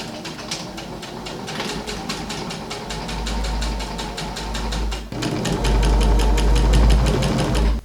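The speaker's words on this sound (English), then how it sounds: "So I'm sewing the shorts, I'm sewing the curved part of it" A sewing machine stitches the curved seams of shorts for a costume, with a rapid, steady mechanical chatter that runs close and continuous, its motor hum growing louder and faster toward the end.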